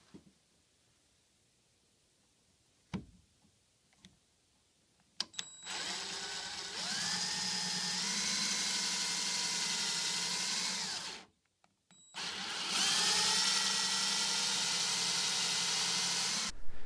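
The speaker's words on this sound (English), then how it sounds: "To make sure I get the dowel drilled in the leg at the right angle" A power drill bores dowel holes into a wooden chair leg in two long whining runs of several seconds each, split by a brief pause and preceded by a few faint clicks, loud and close.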